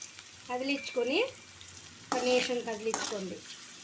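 Onions, onion paste and chillies sizzle steadily in a pan as they are stirred, with two short bursts of voice rising over the frying.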